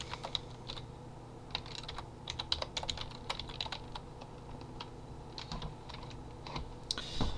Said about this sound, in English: Right, now I've just typed that command in